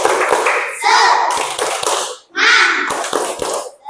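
Primary schoolchildren in an Indonesian classroom perform a rhythmic spirit clap, sharp patterned claps in quick groups alternating with loud chanted children's voices, repeated twice with a short pause between.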